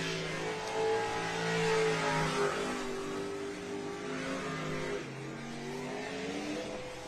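A V8 racing powerboat engine revs and whines continuously during a race, rising and falling in pitch, heard from a moderate distance.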